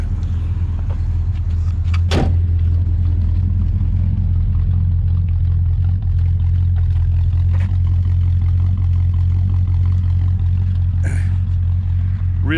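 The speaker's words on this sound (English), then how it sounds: "Really nice V8 soundtrack." A mild V8 car engine idles close by with a deep, even rumble and strong low hum, broken by a couple of brief sharp blips and clicks; no one talks over it.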